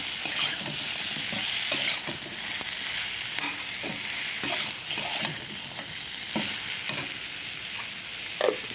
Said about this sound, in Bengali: তারপরে আমি ভেজে রাখা বড়ি, বেগুন, উচ্ছে সবই দিয়ে দিলাম। একটু ভালো করে কষাবো।